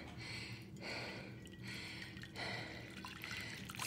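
Strong coffee poured into a small bowl while making tiramisu with ricotta: a steady, quiet liquid trickle running for a few seconds with slight surges, no talking.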